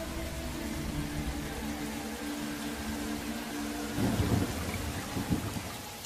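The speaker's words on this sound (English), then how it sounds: "the tropical monsoons that sweep along the far north coast, bringing torrential rain" Heavy tropical monsoon rain pours steadily, with a low rumble of thunder swelling partway through, a broad continuous wash of sound with no voices.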